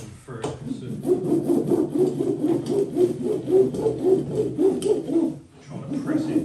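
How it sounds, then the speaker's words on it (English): Ridged roller pressing resin into fibreglass on a tank escape hatch, a rhythmic back-and-forth rolling rasp in steady strokes, close and moderately loud, pausing briefly near the end. "This is what I was on about the roller. It's got little ridges in it, so you can squeeze the resin through."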